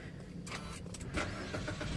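A Mitsubishi Xpander Cross engine cranks and catches via push-button start, a short burst of starter noise settling into a steady low hum, fairly close.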